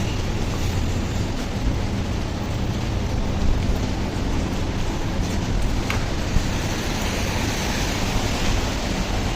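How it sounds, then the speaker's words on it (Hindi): Rain falling outdoors in Dubai, a dense, steady broadband wash of patter and hiss that stays constant and fairly loud throughout, with no talking. "तो बारिश हो रही है, बारिश।"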